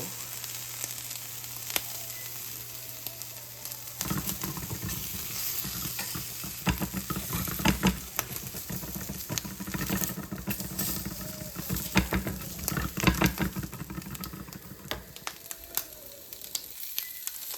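Slices of ham char in a frying pan with a steady, dense sizzle and crackle, joined partway through by louder spitting and occasional scraping clicks, close and continuous with no talk.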